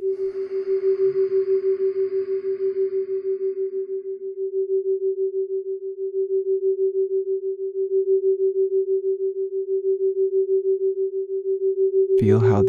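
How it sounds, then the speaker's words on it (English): Theta binaural beat tones for a chakra meditation: one steady mid-pitched sine tone throbbing in a slow, even pulse, with other sounds fading out in the first few seconds and a brief burst of sound at the very end. "Feel how these theta waves pulse through your neck"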